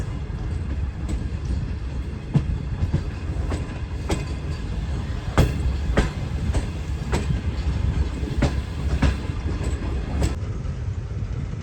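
A train pulls in on the line, its wheels clicking in a steady, repeating clickety-clack over a low rumble of the moving carriages. The sound is fairly loud, close by and continuous.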